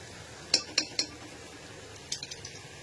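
Lentil dal being stirred in a pot with a spoon: three sharp metal clinks in a row, a pause, then a quicker run of lighter taps, close to the listener over a quiet room.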